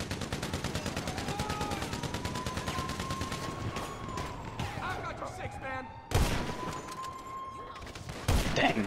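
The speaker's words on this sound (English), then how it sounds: "Dang, I got sniped by him." Sniper rifle fire in Grand Theft Auto V: rapid rattling gunfire fills the opening seconds, then two sharp, loud single cracks ring out, with other game sounds underneath.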